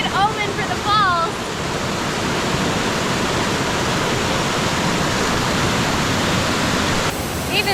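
Waterfall on a Sequoia hike, a steady loud roar of falling water that fills the clip, with brief faint voices and birdlike chirps near the start.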